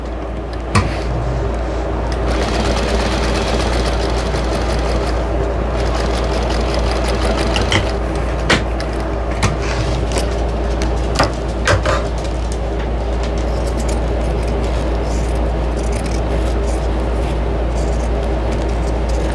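A sewing machine stitches a chicken-shaped potholder in a steady, continuous run close by, with a low constant hum and occasional sharper clicks throughout.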